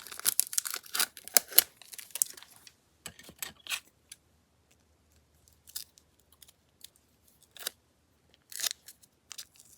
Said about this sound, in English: Just ripped that plastic apart.